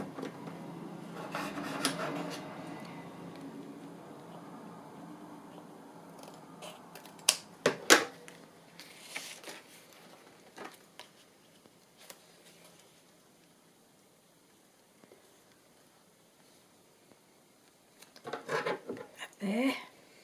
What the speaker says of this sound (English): I'm going to go cut that and make a nice tag.